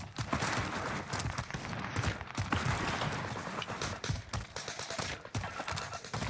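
Dense, continuous gunfire and rattling fusillades from Modern Warfare on Rebirth Island, steady and fairly distant, mixed with footsteps and scattered shots.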